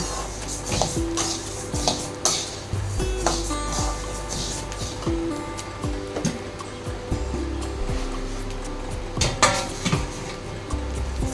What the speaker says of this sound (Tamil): நான் வெறும் வடச்சட்டியில் தான் வறுக்கிறேன், எண்ணெய் சேர்க்கல